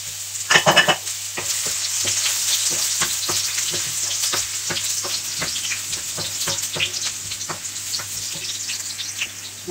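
Ginger sizzles steadily in hot vegetable oil with a little salt while a utensil scrapes and taps the pan in frequent sharp strokes, close and fairly loud over a faint low hum, with no voices.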